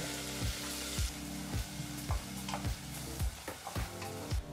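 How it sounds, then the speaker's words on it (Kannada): Chopped onion frying on medium flame in a pan, a steady close sizzle broken by regular scraping strokes of a spoon stirring every half second or so, with no voices. "ಈರುಳ್ಳಿನ ಮೀಡಿಯಂ ಫ್ಲೇಮ್ನಲ್ಲೇ ಫ್ರೈ ಮಾಡಿಕೊಂಡ್ರೆ ಸಾಕಾಗುತ್ತೆ."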